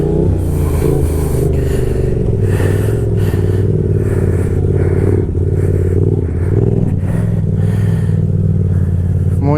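A motorcycle engine rumbles and revs continuously, rising and dipping in bursts as the rider works the throttle and an Easy Stunt clutch lever during slow stunt maneuvers and coasters, close and loud.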